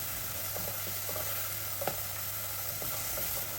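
Medium-sized chopped onions sauté in a pan with a faint, steady sizzle over a low hum, interrupted only by a few soft ticks and one small clink.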